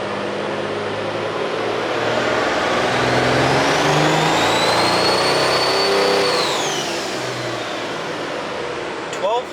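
A 1200-horsepower 2012 pickup revs hard on a dyno, the engine and turbo whine rising to a loud sustained pull and then falling away, with a voice talking underneath.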